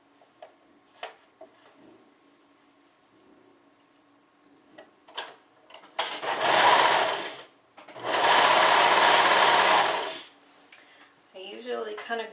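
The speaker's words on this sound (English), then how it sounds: "we are going to sew all the way up to the underarm." A sewing machine stitches a suit seam up toward the underarm in two loud bursts of whirring, separated by a short pause, with quiet handling clicks and fabric rustle before and after.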